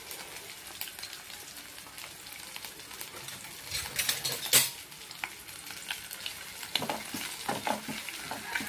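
Small shrimp frying until golden for a gongura shrimp pickle, a steady close crackling sizzle with scattered pops and a louder burst midway, no voices.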